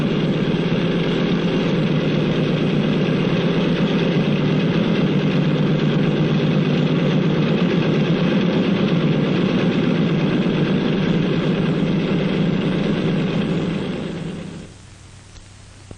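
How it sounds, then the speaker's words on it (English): Engines of a 1948-era airliner run steadily as the plane taxis toward the runway, a loud continuous droning rumble that holds evenly for about fourteen seconds before abruptly dropping away. "The plane starts over to the runway. There it will wait for its turn to take off."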